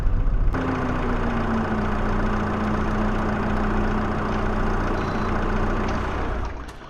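A tractor engine idling in Farming Simulator 25, a steady close mechanical rumble with a faint whine that holds even for several seconds and then fades slightly at the end, with no talk over it.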